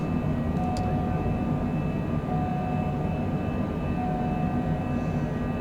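A Cessna jet climbing at night after takeoff from Montgomery, Alabama, heard from inside the cockpit as a loud, steady engine drone with a continuous whine, unbroken for several seconds.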